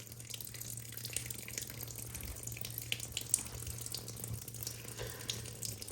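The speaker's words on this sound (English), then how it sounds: "A bunch of water will come out again" Steady rush of water running out of a toilet hose, pouring and splashing, continuous and moderately close, with no talking.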